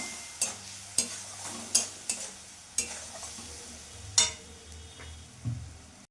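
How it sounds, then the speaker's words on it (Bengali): Spice paste with ground coriander and a splash of water stirred and fried in a pan for a katla fish curry, with about ten distinct scraping stirs over a steady soft sizzle, close and fairly quiet, no talking. "সামান্য একটু জল দেবো যাতে মশলাটা লেগে না যায় আর ভালোভাবে যেন কষানো যায়"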